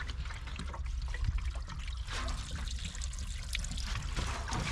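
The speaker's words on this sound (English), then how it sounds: "The radiator water is pouring straight out" Rust-laden radiator water pouring out of the unsealed cooling system of an old abandoned tow truck engine, a steady close trickling and splashing flow that continues throughout.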